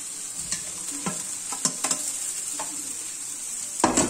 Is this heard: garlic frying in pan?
yes